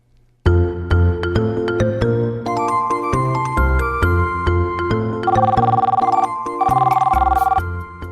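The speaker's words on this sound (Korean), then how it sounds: "오늘 대화에서는 이재훈 씨가 식당에 전화를 합니다" A telephone rings for a call to a restaurant with a loud, steady electronic ringtone of repeating melodic tones lasting several seconds, with no talking.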